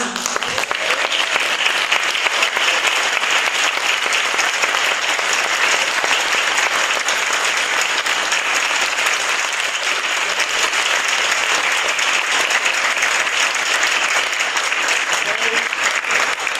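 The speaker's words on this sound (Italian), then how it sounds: "Se l'ha meritato l'applauso Fulvio?" Sustained audience applause at a live music concert, dense and steady throughout, loud and continuous with no break for its full length.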